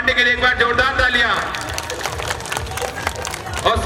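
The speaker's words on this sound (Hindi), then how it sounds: "तो अमित पांडे के लिए एक बार जोरदार तालियां।" An audience applauds at a Dussehra stage show by the Navyuvak Kala Manch, with a broad, steady clapping texture rising after a brief stretch of voice and lasting to the end.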